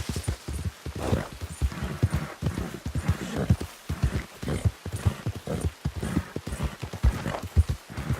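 A mare's hooves clip-clop at a steady walking rhythm in Red Dead Redemption 2, close and continuous with a regular beat throughout.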